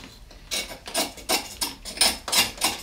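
A blade scrapes fatwood from softwood such as hemlock or cedar, giving about six rhythmic, close rasping strokes in quick succession, with no talk.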